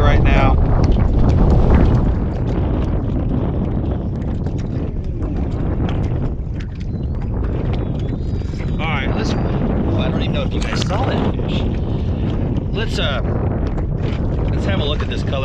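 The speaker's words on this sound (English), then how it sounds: "the wind is howling about 15 mile an hour right now" Wind howling at about 15 mph over a fishing boat on open water, drifting over crappie, with loud continuous gusty buffeting on the microphone and rumble throughout.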